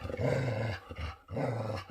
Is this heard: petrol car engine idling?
no